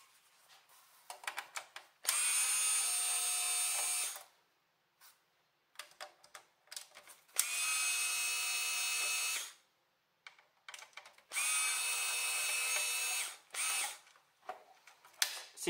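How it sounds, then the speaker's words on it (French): A Parkside cordless screwdriver from Lidl unscrews screws in three loud, sustained whirring motor bursts of about two seconds each, separated by short stuttering clicks and brief trigger pulses, close up with no talk. "Ça fait un peu de bruit mais c'est normal, hein, il y a un moteur électrique dedans."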